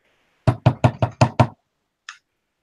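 Six firm knocks on a big iron door in a quick, even rhythm, close and loud, then a short pause and one faint, higher tap, with no talking.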